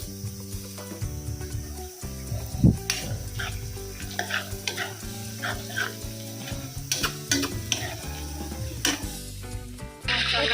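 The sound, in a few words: chicken frying with masala in a pan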